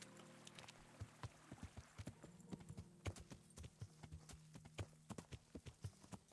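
Horse hooves clip-clopping at a steady walking rhythm in the video game Kingdom Come: Deliverance, fairly close and clear, with a faint neigh and low background ambience.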